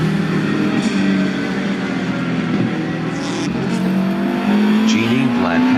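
An Opel race car in a circuit race roars nearby with a sustained engine note that rises as it accelerates, with faint tire noise, while a commentator talks over it.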